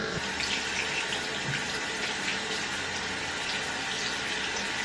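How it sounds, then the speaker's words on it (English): Warm tap water runs steadily over skin during a rinse, a continuous broadband splashing hiss at even loudness throughout, close and uninterrupted, with no voices. "you're just going to want to rinse it off with some warm water"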